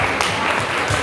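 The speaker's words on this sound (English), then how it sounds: "Please give them a round of applause for this amazing team" Audience at a Miss Teen Philippines pageant event applauding, a short burst of many hands clapping steadily at moderate loudness.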